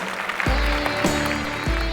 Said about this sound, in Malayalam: കയ്യടി കൊടുക്ക് സന്തോഷേട്ടൻ.